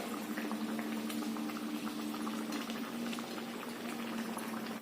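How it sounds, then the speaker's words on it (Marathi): Mangalore banana buns deep-frying in hot oil, a dense continuous bubbling sizzle with a low steady hum underneath, close and loud throughout, no talking. "दोन्ही बाजू तांबूस लालसर होऊपर्यंत आपण हे तळून घ्यायचंय"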